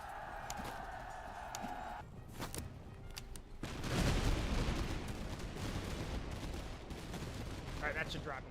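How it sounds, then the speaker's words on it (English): Grenade explosions in the Master Of Command strategy game land as a burst of heavy, rumbling blasts after a few sharp pops, with dense battle noise continuing afterward. "Yep, there go the grenades."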